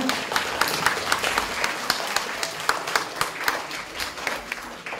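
Applause from the audience at a youth debate final, a moderate patter of many hands clapping steadily at mid distance.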